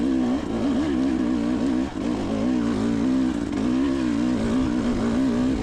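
A dirt bike engine climbs a loose, rocky hill on an enduro trail, a steady moderate drone with slight rises and dips in pitch and no hard revving, heard close and continuously.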